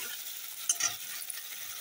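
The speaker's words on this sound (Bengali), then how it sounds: "মশলা দেখো সুন্দর করে কষানো হচ্ছে" Spices and tomato for a Bengali small-river-fish curry cook down in a pan after a splash of water, giving a soft, steady sizzle with a few brief stirring scrapes, close by, with no talking.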